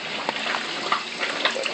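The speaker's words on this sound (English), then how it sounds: "Here comes the water, and we want it just over the filters." Water gushes steadily into a pool filter from a pump, a constant hissing rush at moderate level with small splashy bursts on top.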